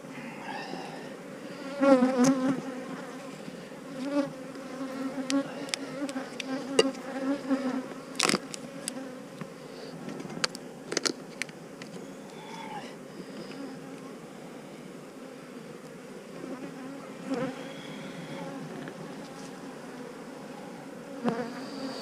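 Honey bees buzz steadily around an open hive on a mild January day while syrup feeding is under way, a dense close drone with individual insects flitting past the microphone now and then.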